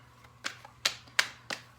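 Tarot cards shuffled by hand, four crisp riffling snaps at uneven intervals, close and fairly quiet with no talking.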